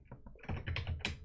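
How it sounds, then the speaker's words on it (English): Quick burst of keystrokes on a computer keyboard as a short command is typed, close and quiet, with a few rapid clicks and no talking. "I can just type TCMD."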